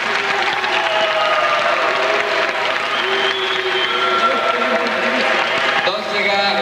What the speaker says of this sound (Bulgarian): Аплодисменти за двамата кикбоксери